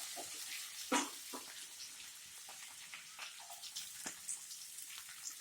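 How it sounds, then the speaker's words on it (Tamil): Chopped onions sizzling in a pan with curry leaves and chillies for coconut rice, a steady fine crackle of frying with a few louder spits and pops, close and moderately soft, with no talking. "இப்போது நம்ம வெட்டி வச்சிருக்கிற வெங்காயத்தை சேர்த்துடலாம்."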